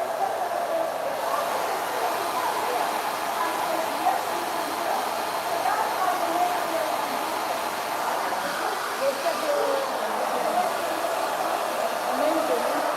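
Hair dryer with a diffuser attachment drying curly hair, a loud, steady close whoosh that runs unbroken throughout, with a voice faintly talking underneath.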